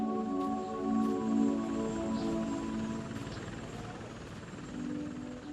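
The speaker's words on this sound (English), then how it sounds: "It felt wonderful when the helicopter finally landed at the airport" A Cormorant rescue helicopter touching down at the airport in St. John's, with a steady droning rotor and engine hum, strong low tonal bands and occasional faint ticks, continuous at moderate distance with no voices.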